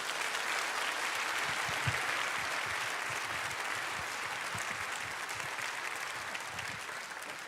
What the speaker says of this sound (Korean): 뜨거운 박수로 환영해 주시면 감사하겠습니다.